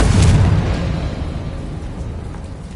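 Confringo spell blasting a barrier in the Hogwarts Legacy video game: a single heavy, deep boom that starts loud and decays into a rumbling tail, close and alone with no talk.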